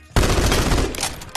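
Rapid burst of automatic gunfire in a team deathmatch shooter game, a dense continuous volley that starts abruptly and runs loud and close for over a second with no talk.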